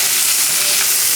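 Pieces of oxtail browning in a hot pan, giving a steady, close sizzle and crackle of frying with no voices over it.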